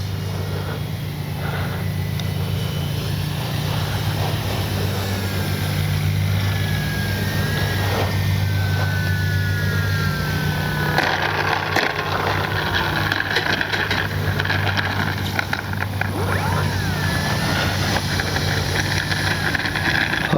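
A Durafly Slowpoke radio-controlled airplane drones steadily overhead, its propeller engine holding a constant, moderately loud buzz with slight shifts in pitch as it flies, and no voices over it.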